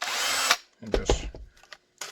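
A power drill reams holes in a holster, a loud half-second whine followed by shorter bursts and stops of the motor, close up and without talk.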